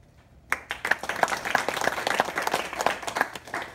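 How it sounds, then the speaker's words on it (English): An audience at a close-up magic night bursts into applause after a magic trick, a sudden, dense, lively clapping that starts abruptly and keeps going steadily nearby. "I appreciate the applause"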